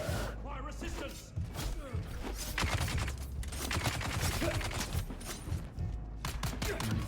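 Rifle gunfire in a vampire-themed video game, a rapid, sustained volley of sharp cracks and thuds that dominates most of the stretch, with a voice talking underneath at times.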